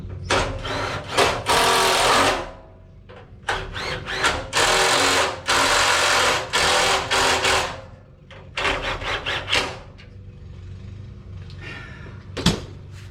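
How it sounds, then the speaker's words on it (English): Power drill boring holes in an intercooler mount for a 1JZ setup, heard as several loud bursts of whirring a few seconds each, with short pauses between and a brief clunk near the end. "So let me drill these holes real quick"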